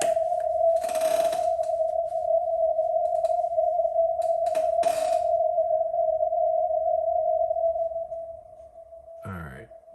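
A Ten-Tec 340 shortwave radio receiver scanning a band holds a steady whistling tone while bursts of static and hiss come and go, ending with a brief garbled sweep.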